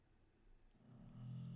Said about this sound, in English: that's Rambo underneath the table snoring